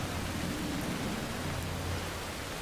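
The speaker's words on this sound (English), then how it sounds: "Raining," A steady, dense hiss of rain in the video game Skyrim fills the clip evenly, with a low rumble underneath and no breaks.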